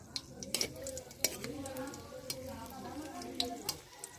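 Chopped vegetables with onion and green chilli cook in a wok in oil, with sharp metallic clinks and scrapes of a spatula stirring against the pan over a soft sizzle, and a voice murmuring faintly underneath.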